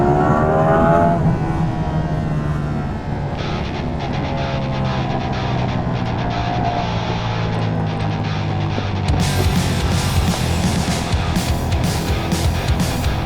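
A Ducati Panigale V4S motorcycle accelerates on a road, its loud engine note rising in pitch through the gears alongside heavy wind rush, with a harsher surge near the end.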